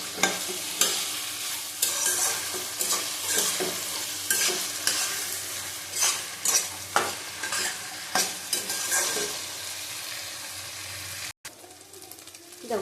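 Ginger paste sizzles in hot oil in a pan while a utensil stirs it, with scraping strokes recurring every second or so over a steady close frying hiss, then a brief cut near the end.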